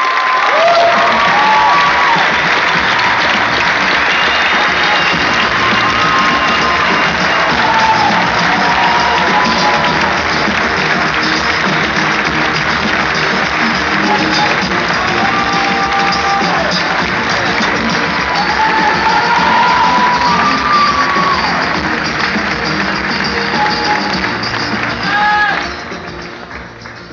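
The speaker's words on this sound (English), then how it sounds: "give a round of applause to our young Gen Y" A live audience applauds and cheers for a young Gen Y panel, a sustained wash of clapping and crowd noise that stays loud and then drops off abruptly at the end.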